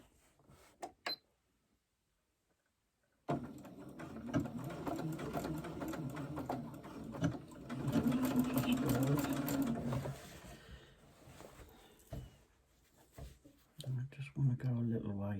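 Sewing machine stitching binding onto a batik quilt, a quiet pause followed by a run of rapid mechanical stitching and a few brief bursts of stitches. A voice talks softly over it.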